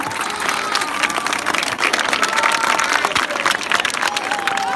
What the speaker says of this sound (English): Please give a louder round of applause as I call on stage Madam Zainab Ataya Kabar.